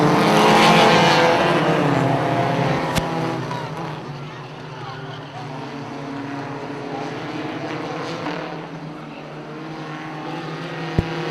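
Pro4 race cars race around Punta Gorda Speedway, with engines roaring loudly past at the start, then settling into a continuous droning pack as they circle the track.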